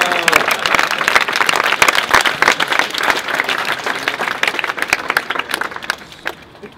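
Loud crowd applause with whistles and cheers at a UK rap battle, dense clapping that thins and fades toward the end.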